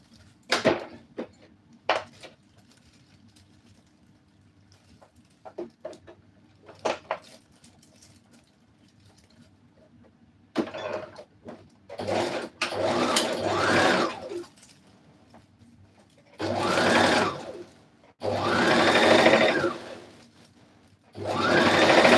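A sewing machine works on a Rwandese cultural dress with scattered short clicks and taps at first. Later come several louder bursts of stitching, close and alone with no talk.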